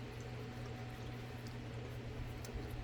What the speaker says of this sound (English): I have 2 cups of water here, and I'm going to add 2 cups of apple cider vinegar